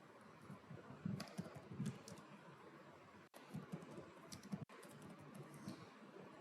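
Programming code is typed on a computer keyboard in quick, uneven bursts of soft, close clicks, with two short pauses and no talking.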